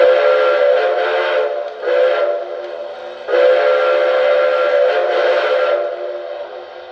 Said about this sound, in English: So let's go ahead and turn on the whistle.